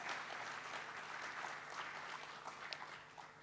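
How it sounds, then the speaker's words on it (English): Audience applause at the opening of a large fintech festival, a steady wash of clapping from a big crowd that holds evenly throughout and fades slightly toward the end. "Can we please have a huge round of applause?"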